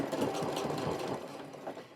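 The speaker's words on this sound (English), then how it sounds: "Now I'm going to sew all the way around, about 1/8 of an inch from the edge." A sewing machine runs continuously around the edge of a fabric headband, a close, steady rattling whir with a quick stitching pulse, no voices over it.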